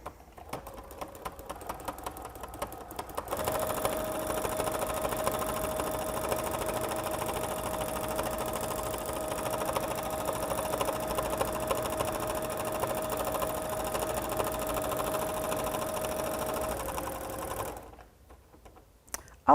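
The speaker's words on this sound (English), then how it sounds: "So let's begin quilting." A sewing machine mounted on a tabletop fabric frame quilts in a long steady run, its needle mechanism a fast, even chatter with a constant motor hum, stopping abruptly near the end with a few slow clicks.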